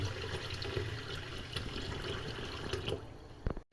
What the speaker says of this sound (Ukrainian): зальємо на 3 хвилини кипятком